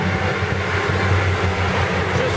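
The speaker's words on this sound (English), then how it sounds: "Just missed your train. There's a train track." A train rolls along a track close by, a steady low rumbling drone with rhythmic wheel-on-rail pulses throughout, loud and continuous with no speech.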